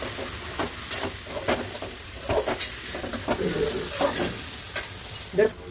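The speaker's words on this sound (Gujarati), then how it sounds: "આપણે જે ફ્રાય કરેલા બટેટા છે એ હવે એમાં નાખી દેવાના છે અને બધું મિક્સ કરી નાખવાનું છે" Fried potatoes stirred into sizzling masala for aloo biryani in a pan, a steady close frying hiss with repeated scraping stir strokes throughout, one louder clatter near the end.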